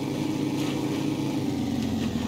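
A motorboat engine idles in Sunkenland with a steady, low, even rumble, held at a constant level with no revving.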